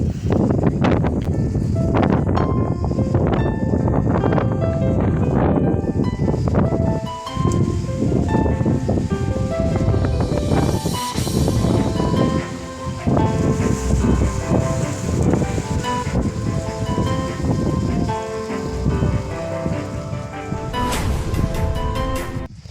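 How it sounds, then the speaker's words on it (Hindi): Strong gusting wind roars steadily for the whole stretch, broadband and loud, with rustling and what may be light drizzle mixed in under darkening stormy weather; no talk is heard. "इस तरीके से तेज़ हवाएं चल रही थी, चारों तरफ कुछ अंधेरा सा हो गया था। और हल्की हल्की बूंदाबांदी भी शुरू हो गई।"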